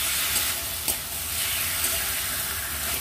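Gandal leaf paste frying in a pan as it is stirred, a constant close sizzle with a few soft scrapes of the spoon and no talking.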